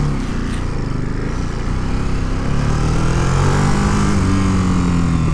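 2022 Ducati Monster Plus motorcycle pulling away and accelerating in touring mode, its engine note climbing steadily in pitch, loud and close, with continuous wind rush over the ride.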